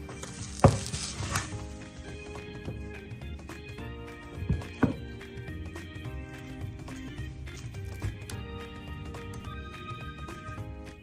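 Carrot chijimi batter frying in a pan, with a steady soft sizzle running throughout and a few sharp clinks of a utensil against the pan.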